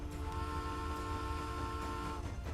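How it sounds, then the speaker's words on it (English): A sustained train horn from Transport Fever 2, one steady multi-tone blast over low rumbling, held loud and near for the whole stretch before easing off. "enjoy that beautiful train honk"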